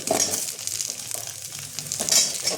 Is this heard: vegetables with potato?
yes